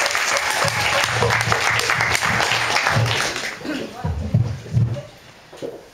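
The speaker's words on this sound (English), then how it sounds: "A huge, sexy round of applause for Sarah." An audience gives a warm round of applause and cheers for a woman named Sarah, clapping steady and fairly close, then thinning into scattered claps with voices rising over it.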